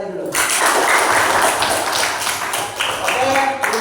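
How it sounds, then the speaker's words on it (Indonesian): Students applauding a presenter at a teaching session, a burst of close, dense clapping that begins abruptly and carries on steadily for a few seconds. "Kita tepuk tangan untuk kakaknya dulu."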